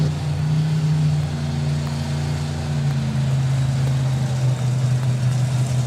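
Naturally aspirated nitromethane A Fuel drag racing car at a drag strip event, a steady, loud engine roar with a low droning tone held throughout, no talk over it.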